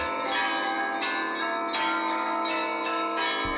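Church bells ring at a historical and cultural centre of spirituality in Vinnytsia region, Ukraine: loud, bright metallic peals struck repeatedly in an irregular rhythm, their tones overlapping and sustaining without any voices.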